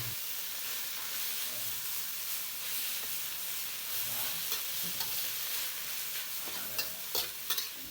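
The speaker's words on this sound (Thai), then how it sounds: "ให้เราผัดให้เข้ากันนะครับ" Tilapia with celery and sliced red chilies sizzles and crackles steadily in a hot pan while being stir-fried, with a few sharp scrapes and clinks near the end and no voices.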